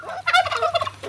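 A turkey gobbles nearby in a loud, rapid, warbling burst about a second long, heard alone.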